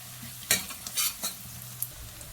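Curry leaf sprigs hitting hot oil in a pan for egg masala gravy, a few sharp crackling sizzle bursts and spatters over a low background, close and brief with no talking.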